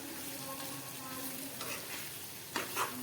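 Besan mixture is stirred in a hot pan for a Kathiyawadi dambha shaak, giving a steady close sizzle with scraping stir strokes and a couple of clinks near the end.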